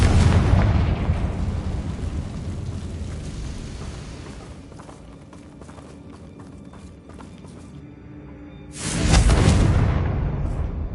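Confringo fire spell explosion in the video game Hogwarts Legacy: a loud booming blast that decays into a long rumbling tail, followed by a second heavy burst near the end.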